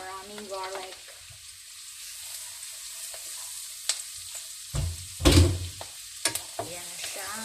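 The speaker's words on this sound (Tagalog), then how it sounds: "So lagay na natin ang maraming garlic." Garlic sizzles and fries in butter alongside pork ribs, a steady crackle with sharp bursts of spitting and spoon scrapes near the end.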